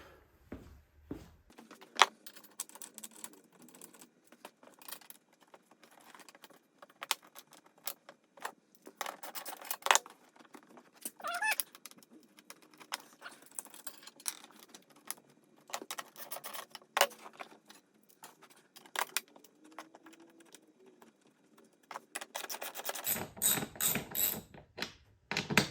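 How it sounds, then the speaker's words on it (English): Bolts are fitted back into the seat base of an M38A1 jeep, a series of close metallic clinks, rattles and ratcheting clicks scattered irregularly over a quiet background. "Put the bolts back in it."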